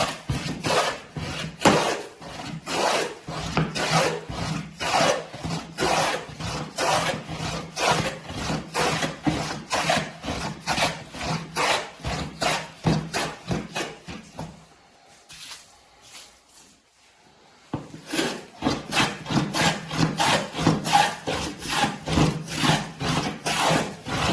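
A hand plane strokes diagonally across a wooden board while it is flattened by hand: a long run of rhythmic, close, rasping shaves, pausing briefly for a few seconds before the strokes resume.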